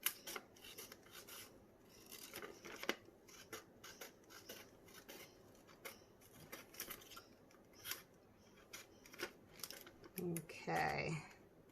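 Scissors snipping along a traced line on a sheet of material in a resin coaster craft, giving a series of close, crisp irregular cuts with brief pauses and a louder rustle near the end.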